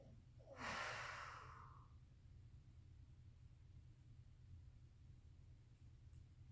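A single audible breath, a soft exhale taken during a yoga hamstring stretch, rises near and then fades, leaving a quiet steady hum.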